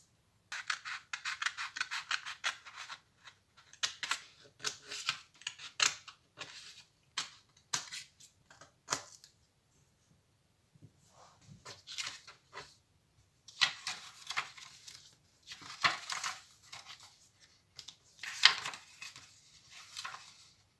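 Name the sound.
cutting paper along drawn lines for a lantern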